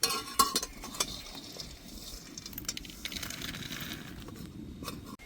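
Peanuts dry-roasted without oil are stirred in a hot pan, producing continuous scraping and rattling with sharper clatters of a spoon against the metal, close and moderately loud.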